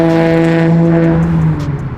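A loud Toyota Supra exhaust with a deep steady droning tone, close and strong, fading slightly toward the end, no voices.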